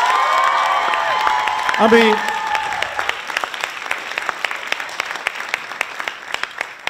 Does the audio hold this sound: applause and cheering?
yes